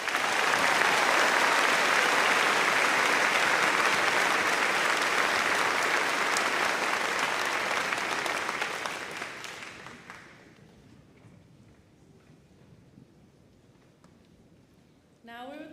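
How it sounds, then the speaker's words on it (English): A graduation crowd at Hockinson High School applauds honoured heroes: a loud, sustained wash of many hands clapping that holds for about nine seconds, then tapers off into near quiet. "Please join me in giving all of these heroes a round of applause."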